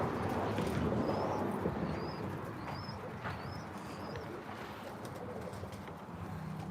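Birmingham Roller pigeons cooing in a loft, a run of soft repeated coos over a steady rushing background.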